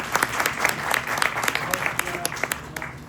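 An audience claps steadily in applause welcoming Iqrar ul Hassan at a meet-and-greet event in Canada, with dense overlapping hand claps in a continuous wash and a few sharper claps standing out nearby.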